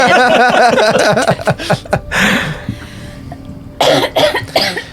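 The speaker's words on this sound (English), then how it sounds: "Ice cream makes me cough." Repeated harsh coughing in quick bursts, close and loud, with short gaps and a few throaty breaths between fits.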